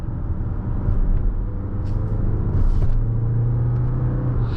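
A 2025 Mazda CX-70 PHEV Premium Plus with its naturally aspirated four-cylinder engine on the move, a steady, loud cabin rumble with a low engine drone and road noise, no talk.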